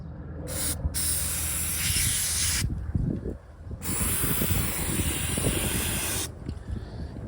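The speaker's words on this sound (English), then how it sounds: "it's not WD-40, it's silicone spray" A can of silicone spray sprays in long hissing bursts onto a rusty Jeep Grand Cherokee WJ rear window mechanism, three extended blasts separated by brief pauses, loud and close.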